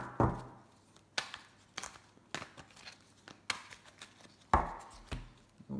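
A deck of tarot cards is cut by hand on a table, making a series of close, sharp taps and soft card slaps spaced irregularly over several seconds, quiet otherwise.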